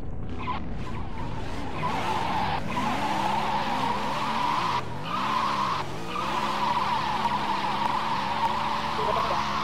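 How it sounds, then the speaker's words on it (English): A car in the Roblox game Tha Bronx 2 spins out, its tires squealing in a loud, sustained skid that wavers in pitch and runs almost unbroken, with engine drone beneath and voices talking over it. "You gonna let him spin your car like that?"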